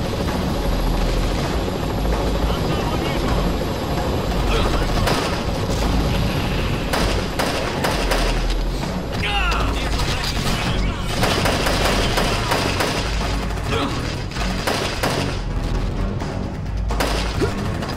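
Gunfire in the first-person shooter Chernobyl Commando, rapid bursts and crashes over a constant loud helicopter-like rotor drone, with a voice talking now and then over the din.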